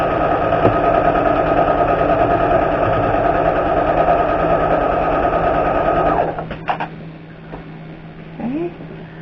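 A sewing machine stitches steadily down along a zipper on a lined pouch, a fast, even whirring that stops around the six-second mark and leaves a few light clicks and handling noises.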